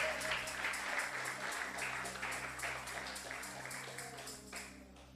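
Church congregation clapping steadily together during worship, a dense, even wash of applause over a sustained low hum and faint music, holding at moderate level throughout.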